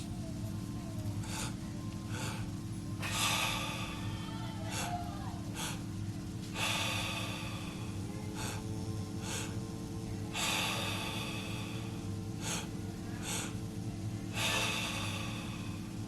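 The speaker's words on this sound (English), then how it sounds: "Breathe through the resistance." Deep rhythmic breathwork breathing in a steady cycle, with long drawn inhales and exhales repeating at regular intervals over a constant low background hum.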